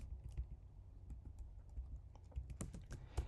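Computer keyboard typing while coding a Shopify theme, soft, quiet irregular key clicks in a steady patter, faint and close with no voices.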